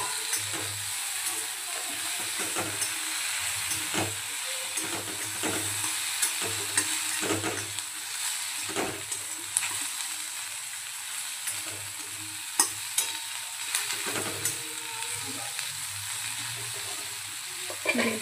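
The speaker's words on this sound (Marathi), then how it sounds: "भेंडी ॲड करून आपल्याला छान असं परतून घ्यायचं" Okra sautéed in a pan for bhindi besan sabji, with a continuous soft sizzle broken by repeated scraping strokes of the stirring spoon, fairly quiet and close, with no talk.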